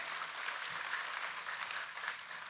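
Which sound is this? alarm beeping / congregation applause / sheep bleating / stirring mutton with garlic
congregation applause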